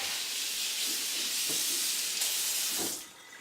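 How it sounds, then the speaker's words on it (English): Kitchen sink tap running water over a damp microfiber mop pad, a steady close hiss of flowing water that dips briefly as the pad moves under the stream and cuts off near the end. "I just take it over to my sink, run the water over it real quick"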